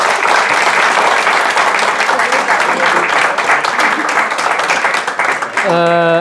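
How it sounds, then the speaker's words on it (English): A crowd at a church retreat talk breaks into loud, sustained applause, dense clapping filling the room for several seconds before a voice begins speaking at the very end. "Can we have a round of applause?"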